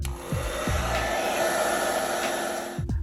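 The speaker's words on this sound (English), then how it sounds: "take any hairdryer and heat the surface of the display for 1 or 2 minutes" A hair dryer heats an iPhone XS Max display with a steady, close whirring hiss, briefly bumped or handled a few times while it keeps running.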